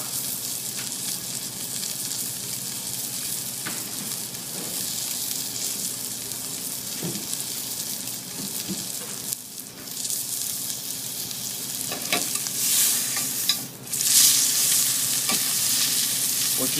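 Braciole meat searing in a hot pan, a steady broad sizzle running throughout with occasional stirring scrapes and a louder burst of frying near the end, no voices.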